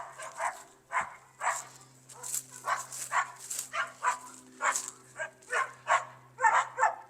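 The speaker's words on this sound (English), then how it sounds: "the usual country dogs. Yes. They like to greet us" Country dogs in a small-town back alley bark repeatedly in a quick, uneven series of sharp yips and barks, moderately distant, with a steady low hum underneath.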